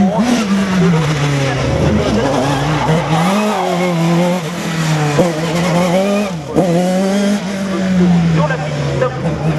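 Rally car finishing its second slalom run at the Slalom du Mortanais 2016, engine revving high and shifting through gears with tire squeal, loud and steady throughout with voices faintly mixed in.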